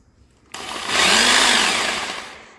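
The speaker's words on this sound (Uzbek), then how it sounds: "Perforator ishlayapti." A rotary hammer drill, run from a Deye 5 kW single-phase hybrid solar inverter, kicks in abruptly and whirs loudly and close for about two seconds, swelling slightly before it stops.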